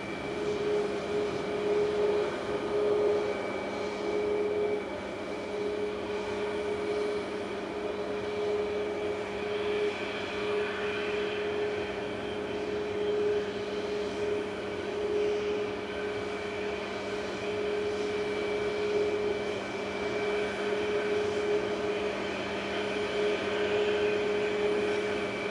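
A Ryanair jet airliner bound for Barcelona at Manchester Airport gives off a continuous droning engine hum with a steady tonal whine, holding at a fairly constant level with no talk.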